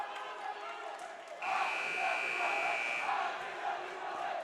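Rowdy high school student sections fill a gym at an Apex basketball game with a loud continuous roar of crowd noise, while a long buzzer-like tone sounds and a nearby voice talks over the din.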